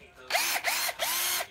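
An old used cordless drill runs in three short bursts, its whine ramping up and down with each trigger pull, close and loud with no talk.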